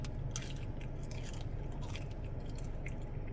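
Crunchy fried fries with a cornmeal-like coating are bitten and chewed up close, giving a steady run of crisp crunching bursts with no talking.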